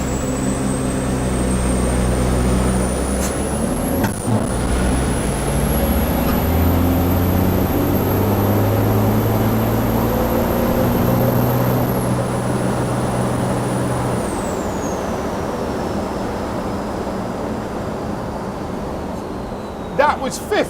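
A race truck builds up to 3.5 bar of turbo boost while left-foot braking and then accelerates, with a rising, sustained high turbo whistle over a deep engine roar. A driver talks throughout.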